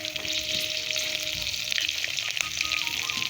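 Green chillies sizzle in hot oil in a pan, a constant close crackling hiss with occasional stirring clatter.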